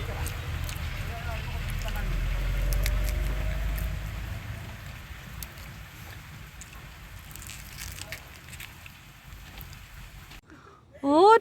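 Heavy rain pours outside a holiday home in Cherrapunji, a constant wash of hiss with a low rumble, while voices murmur indoors beneath it before a sudden loud noise at the very end.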